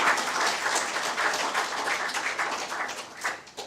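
A Toastmasters International district conference audience applauds at an opening ceremony, dense steady clapping from many hands sustained throughout, fairly loud and close with no talk over it.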